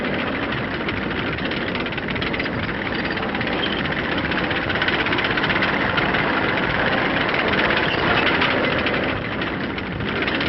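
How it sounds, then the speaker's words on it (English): Heavy tanks rumble continuously, a deep, dense mechanical drone holding steady with slight swells, rolling past in Korea in 1951. "Here come the babies they'll need. Persian tanks. Rumbling up to spearhead the action to come."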